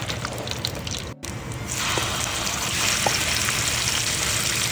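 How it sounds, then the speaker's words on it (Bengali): A ready-made spice paste frying in a pan for prawn thokku, with a loud, constant sizzle and hiss, a brief break near the start, and a few light clinks as it is stirred. "ওই আগে থেকে বানানো মশলা ঢেলে সমানে নাড়তে হবে"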